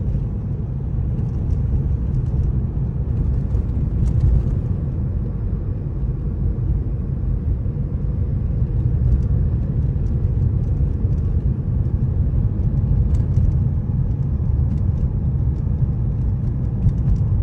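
Car driving in Yakutsk as it speeds up toward top speed, a constant heavy engine and road rumble heard from inside the cabin, steady and loud with no talk.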